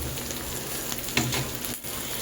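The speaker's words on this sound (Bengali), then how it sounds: "ডাল সবজি সব একসাথে ভালোভাবে আরেকটু নাড়িয়ে চাড়িয়ে ভেজে নেব।" Vegetables and golden moong dal frying together in oil for a home-style vegetable dal, a steady close sizzle with soft scraping stirs breaking through now and then, no talking.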